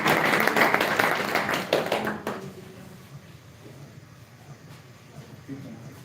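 An audience at a celebration ceremony applauds a third-place prize winner, a full burst of clapping for about two seconds that cuts off into a quiet room.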